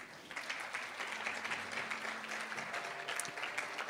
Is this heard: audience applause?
yes